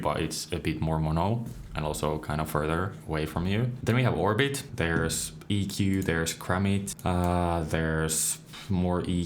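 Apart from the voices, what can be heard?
None of the usual background noises is heard.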